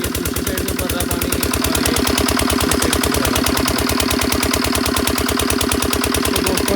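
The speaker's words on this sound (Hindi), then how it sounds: "और ये तो दोस्तों इंजन कहते हैं," A diesel engine driving a water pump runs steadily and close by, with a fast, even knocking pulse and no pauses from start to finish.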